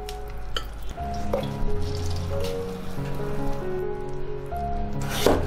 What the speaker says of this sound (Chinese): 浸泡好的竹笋清洗一下